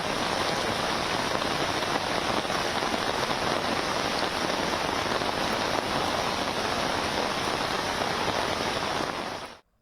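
Heavy monsoon rain in Gujarat pours down steadily, a dense, loud, unbroken hiss of drops on roads and surfaces that cuts off abruptly at the end.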